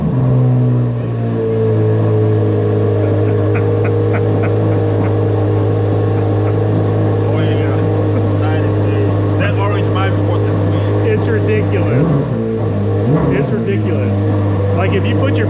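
A 2024 Chevrolet Corvette C8 Z06 idling with a deep, steady engine drone, close and loud throughout, with two brief throttle blips near the end.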